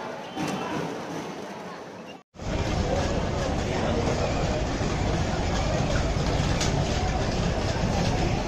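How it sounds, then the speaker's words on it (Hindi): Steady rumble and clatter of a moving passenger train heard from inside a carriage, loud and continuous after a brief cut, with faint background chatter. "हम लोग ट्रेन में बैठ गए"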